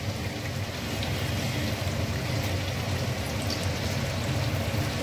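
Luchi, puffed flatbread, frying in hot oil on a gas stove, giving a steady, dense sizzle and crackle like rain that holds at an even loudness throughout.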